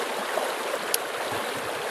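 A backcountry stream runs steadily at a water source in Capitol Reef, with cows upstream. It makes a continuous broadband rush of flowing water, with a brief sharper splash or click near the middle and no voices.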